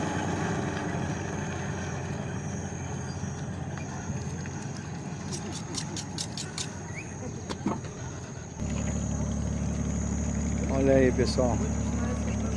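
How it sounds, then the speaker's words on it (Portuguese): A passenger speedboat on the Solimões river near Manaus; after a stretch of ambient noise, a steady low engine drone sets in and continues while someone talks over it. "Isso é a lancha."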